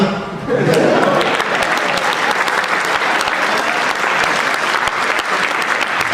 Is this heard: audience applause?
yes